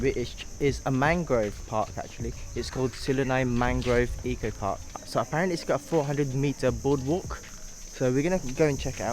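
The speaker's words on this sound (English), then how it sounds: "the crickets cricketing." Steady high-pitched cricket chirring runs throughout, a constant insect drone outdoors in Oriental Mindoro, Philippines, beneath a person talking continuously in the foreground.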